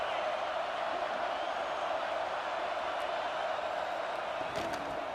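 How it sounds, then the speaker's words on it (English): Stadium crowd in an Ohio State Buckeyes college football video game, a steady, dense roar of cheering that holds loud and continuous throughout, with a couple of brief sharper peaks near the end. "The Buckeye crowd alive on third down."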